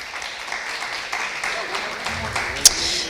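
Audience applause rolls through an auction barn during an FFA ham and bacon sale, steady moderate clapping with a voice speaking over it and a brief sharp click near the end.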